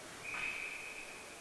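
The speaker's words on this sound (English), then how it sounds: "And we have a whistle." A referee's whistle sounds at a NARCh Pro roller hockey game, one sustained shrill tone that starts sharply and holds to the end, clear over faint arena ambience.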